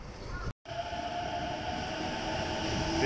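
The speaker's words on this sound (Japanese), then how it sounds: "電車です。" Train at a Shinjuku station platform in Japan: a steady, close rumble with a high electric whine and rail hum, constant and slowly building, interrupted by one brief cut near the start.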